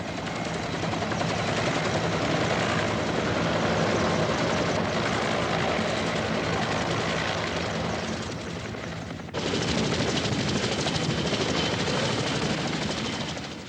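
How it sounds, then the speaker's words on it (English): Military helicopters set down at the American embassy roof and compound during the Vietnam War evacuation, a loud, continuous rotor roar that holds steady throughout, with a brief dip before it swells again. "the helicopters can now only land on the embassy roof or in its secluded compound"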